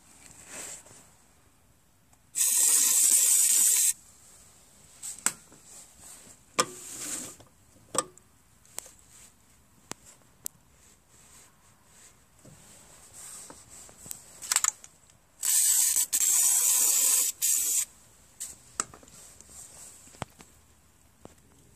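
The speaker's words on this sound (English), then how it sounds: "I'm going to spray some lithium grease right there." Two hissing bursts of lithium grease aerosol, each a second or two long, separated by quiet clicks and handling noises, sprayed onto the drive parts of a Craftsman 928 snow blower.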